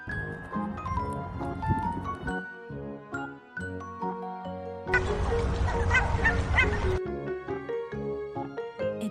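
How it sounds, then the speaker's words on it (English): Honking, cartoon-like duck quacks sound in short bursts over light, tinkling children's music, clear and close, with a brief louder stretch in the middle. "This animal loves to swim and says, quack, quack."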